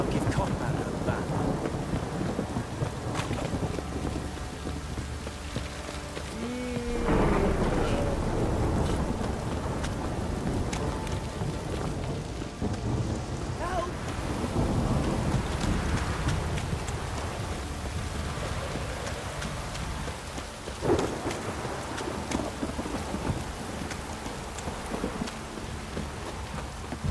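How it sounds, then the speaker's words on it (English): A heavy downpour in The Witcher 3 pours down with steady hissing rain while deep thunder rolls and rumbles repeatedly through the storm, under low game ambience with no clear speech. "This downpour's a bastard, it is."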